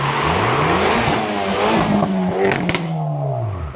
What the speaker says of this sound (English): If you've ever heard a Nissan 350Z start up before, you'll know straight away the sound.